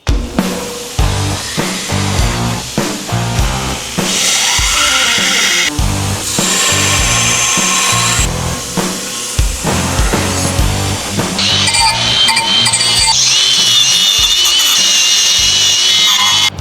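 A bench grinder profiles the edges of a letter opener forged from 3/8-inch mild steel, grinding loudly and continuously with shifting, rasping bursts as the metal is pressed against the wheel.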